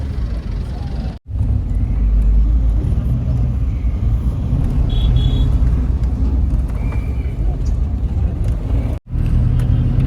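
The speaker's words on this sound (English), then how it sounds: "We've decided to travel rustic, and we're in a bus." A rustic city bus rides through the streets of Damascus, Syria, its engine droning loudly and continuously with road rumble, broken by two short cut-outs, while voices talk faintly over it.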